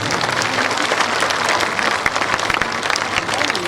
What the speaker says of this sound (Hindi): लेकिन ताली बजा दीजिए।